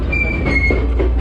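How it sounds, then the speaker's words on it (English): A passenger train rolls along the rails in Sri Lanka with a steady low rumble and a thin high squeal from the wheels running through it, loud and close from inside a carriage, with no talk. "I'm still in the train."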